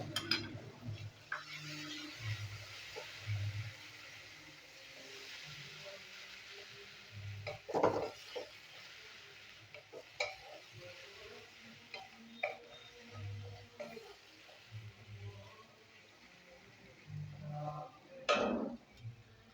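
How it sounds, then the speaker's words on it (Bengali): Sour yogurt is stirred with spices in a pan while cooking a chola machar ghanto, giving faint, soft scraping and tapping of the spoon against the pan and a low sizzle, with no talking. "টক দইটা ভালো ভালো করে মশলার সাথে কষিয়ে নেবো।"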